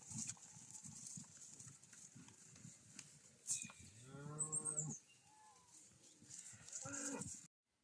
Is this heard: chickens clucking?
no